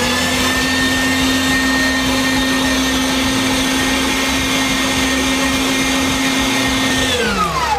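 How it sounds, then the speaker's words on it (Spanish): A meat grinder running a second grind of beef gives a loud, steady motor drone with a high whine, holding constant for several seconds before the pitch dips as it winds down. "La segunda molienda nos va a permitir que quede mucho más uniforme y homogénea la molienda de carne"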